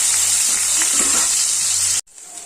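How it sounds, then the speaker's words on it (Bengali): A pan of fish frying in oil sizzles in a loud, even hiss for about two seconds, then drops abruptly to a softer sizzle. "মাছগুলো সব ভেজে নিলাম"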